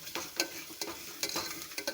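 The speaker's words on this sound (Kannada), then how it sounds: "ಕೊಬ್ಬರಿ ತುರಿ ಹಾಕಿ ಉಪ್ಪು ಹಾಕಬೇಕು. ಒಂದು ಸಾರಿ ಫ್ರೈ ಮಾಡ್ಕೋಬೇಕು." Grated coconut and salt frying in a pan for Bangalore-style vegetable sambar, with a soft steady sizzle broken by repeated sharp scraping stirs close by, alone without talk.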